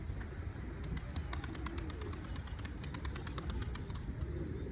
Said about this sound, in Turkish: Seri, hızlı kanat çalıştıran kuş yavru üzerinde.